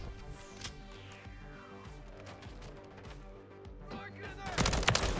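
M16 rifle fire in Modern Warfare 3 rings out in repeated sharp bursts and single cracks over game effects and a descending whine, building into a dense, loud volley at the end.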